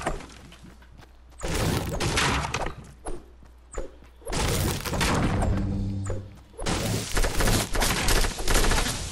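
Rapid gunfire in Fortnite, with clusters of sharp shots, cracks and shattering impacts, loud and close, alternating with brief quieter gaps.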